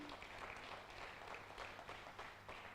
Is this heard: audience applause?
yes